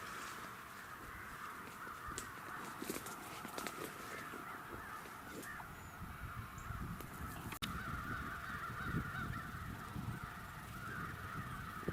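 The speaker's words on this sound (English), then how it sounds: "The crows all seem a little overzealous in their mobbing behaviors, always ready to strike at the first sign of distress." Crows mobbing a red-tailed hawk caw repeatedly, harsh calls coming in irregular bursts over an outdoor background of steady wind and rustle.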